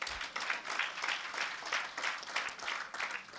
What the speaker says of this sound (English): So as we begin, round of applause.